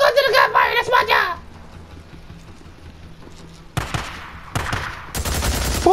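Gunfire in the Days Gone video game, with bursts of shots crackling in near and loud at intervals toward the end, after a stretch of faint ambience and an opening burst of game sound.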